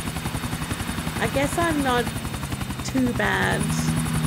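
A helicopter in Grand Theft Auto IV thrums with a steady rotor pulse throughout, while game characters talk over it in short phrases.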